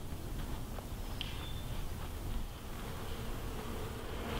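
Honey bees hum steadily around a top bar hive, a dense continuous buzz with an occasional closer bee passing, no talking.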